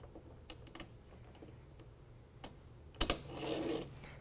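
A BAKFlip sliding tie-down bolt head slides into a truck-bed tonneau rail: faint scattered clicks and scrapes, then a sharp metallic clack followed by a brief scraping slide, close and quiet.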